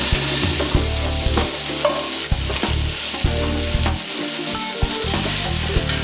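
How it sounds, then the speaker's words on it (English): Sausage remnants scraped across the bottom of a hot pan, a steady loud sizzle of frying with repeated scraping and stirring strokes throughout, no talking. "If there's any sausage remnants, just kind of scrape them off the bottom as you're doing this."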